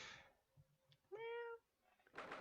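A single clear cat meow rises and falls in the video game The Great Ace Attorney Chronicles, heard alone and close against a quiet background, with faint rustling before and after.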